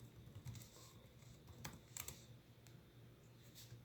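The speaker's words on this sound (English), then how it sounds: "type in your password" Quiet, irregular clicks of a computer keyboard as a password is typed, soft keystrokes in short bursts with small pauses, close by and with no voices.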